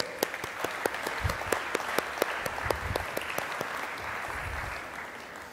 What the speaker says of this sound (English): give yourself a pat on the back and a round of applause for being here